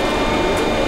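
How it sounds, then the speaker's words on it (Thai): A vacuum cleaner runs in a steady, loud, broadband drone inside a Sniper Elite 2 game scene, holding at one level without a break for the whole short moment. "เครื่องดูดฝุ่นไงโหแถวนี้มันสกปรกต้องมีการทำความสะอาด"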